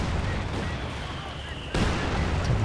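A mortar pit firing in Company of Heroes 2, with rumbling battlefield explosions and a sharp louder blast midway, heard under ongoing talk.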